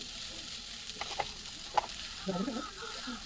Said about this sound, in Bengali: তো এবার কচুরলতিটি একটু নেড়ে চেড়ে নেব।